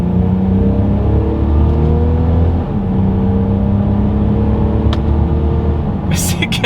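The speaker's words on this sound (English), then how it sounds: "we are in Sport Plus driving mode from a standstill in 3, 2, 1" A 2022 Mercedes-Benz GLC 300 Coupe accelerates hard from a standstill in Sport Plus mode, heard from inside as a loud rising engine drone with a gear change partway and a brief click near the end.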